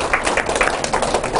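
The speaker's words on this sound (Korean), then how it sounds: "박수 한번 쳐주세요" A talk-event audience claps in a brief burst of applause, dense and fairly close, with no voices standing out.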